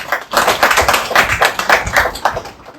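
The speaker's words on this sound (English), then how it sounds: "Give him a round of applause." An audience at a book launch at the Broadway Book Centre claps for an author: close, brisk applause from a modest crowd with irregular overlapping pulses, sustained throughout and never swelling into a roar.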